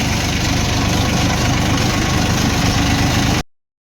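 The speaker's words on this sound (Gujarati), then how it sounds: "હા આ બાજુ કિરણ ટ્રેક્ટર ચલાવે." A tractor engine idling close by, a loud steady low rumble with rhythmic knocking that cuts off abruptly near the end.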